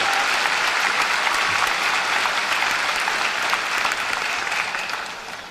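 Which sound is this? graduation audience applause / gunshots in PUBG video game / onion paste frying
graduation audience applause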